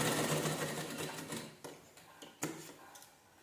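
A sewing machine stitches a sleeve in a fast continuous run that slows into a few separate mechanical clicks and short bursts, heard close and on its own.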